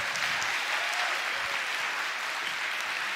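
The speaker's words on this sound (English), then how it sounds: "Now, give them a big round of applause." A stage event audience applauds families leaving the stage, with dense, even clapping from many hands held at a steady level throughout, no voices over it.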